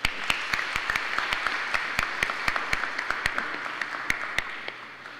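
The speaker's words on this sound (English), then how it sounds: "Let us all give them a round of applause." A church congregation claps after a morning Mass for the choir, with scattered, distinct hand claps ringing out in an uneven rhythm across a reverberant space.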